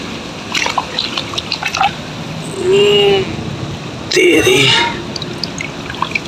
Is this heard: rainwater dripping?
yes